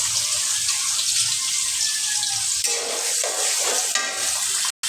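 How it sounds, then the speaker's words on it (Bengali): Onions dropped into hot oil sizzle and spit steadily in a pan while chicken curry with jackfruit seeds is being cooked; the frying is close and continuous, with a brief stirring clatter near the end. "আর এদিকে কিন্তু আমার তেলটা একটু গরম হয়ে এসেছে, বুঝতে পারছেন। আমি পেঁয়াজ দিয়ে দিচ্ছি"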